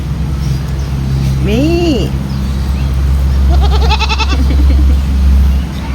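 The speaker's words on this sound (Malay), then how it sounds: "Ni kambing." A goat at Johor Zoo bleats once clearly, then a second wavering bleat follows, over a constant low hum of background noise.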